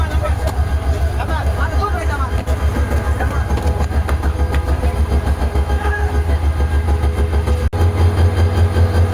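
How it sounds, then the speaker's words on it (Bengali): A passenger train arriving at Sreemangal station on a journey from Dhaka makes a steady low rumble with rhythmic rolling clatter as riders step off, with voices talking over it and a brief thump near the end. "আমরা এখন ট্রেন থেকে নামতেছি।"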